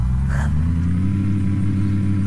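Car engine in the video game Unturned, a steady low droning hum with strong harmonic rumble that holds at an even level throughout, with no talk over it.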